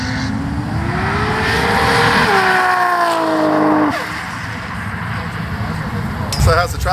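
A 2JZ-powered Toyota Supra making 1100 horsepower roars down a race track on a shakedown run, its engine rising and shifting through gears, with a brief tire chirp and voices talking near the end.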